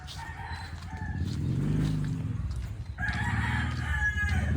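A backyard rooster crows loudly and close by, one long drawn-out call and then the start of a second, among other fowl that include a labuyo jungle fowl.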